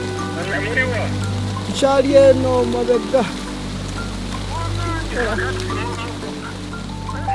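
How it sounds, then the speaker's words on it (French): Steady, dense rainfall hisses throughout in Uganda, with a few voices talking briefly over the downpour. "là il se met à pleuvoir énormément"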